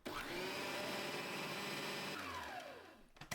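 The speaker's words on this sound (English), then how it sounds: "Add the onion and garlic. Blend." Food blender whirs steadily as it purees onion, garlic and chickpea grains for falafel, a continuous loud motor drone with a slight pitch shift near the end before it stops.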